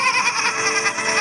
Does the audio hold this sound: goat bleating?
yes